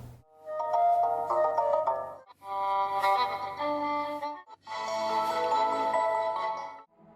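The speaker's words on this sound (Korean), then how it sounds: "쌍용차는 다양한 경고음 테마를 제공하고 있습니다." Three bright electronic melodic warning chimes from a 2021 SsangYong Rexton play in succession, each a short tuneful phrase of bell-like tones with brief pauses between them.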